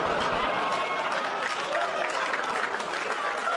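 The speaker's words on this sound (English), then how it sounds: "Applause break on a joke I've never said before on my special" Dense, sustained audience applause at a stand-up comedy show fills the room steadily, a broad wash of many hands clapping with faint crowd murmur underneath.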